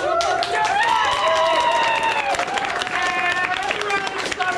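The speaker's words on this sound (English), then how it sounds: "Round of applause!" Applause and cheering from the crowd at a live music show at Roboto in Pittsburgh, clapping running under a loud voice calling out over it, with whoops and shouts scattered through.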